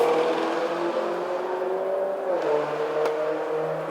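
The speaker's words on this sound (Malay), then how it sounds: "Bising kereta tu." Nearby car engine noise heard from indoors during a cordless vacuum review, a steady droning hum that shifts slightly in pitch midway, running continuously with no talk.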